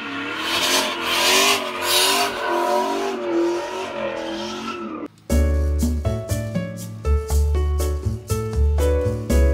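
Turbocharged 6.1 Hemi in a 2006 Chrysler 300C SRT revving loudly up close with a wavering engine note, then cut off abruptly and followed by loud music.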